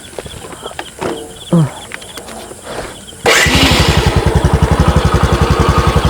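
A motorcycle engine starts up midway and runs with a steady, rapid thumping putter, loud and close, after a stretch of quieter scattered background noises.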